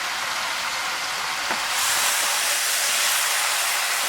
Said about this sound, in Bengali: লবণ হলুদ মাখানো লোটে মাছগুলো দিয়ে দিলাম।